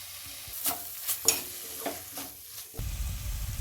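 A bread snack masala with sauce and salt is stirred and mixed in a frying pan, a few distinct scraping strokes over a faint sizzle, ending in a louder burst of frying.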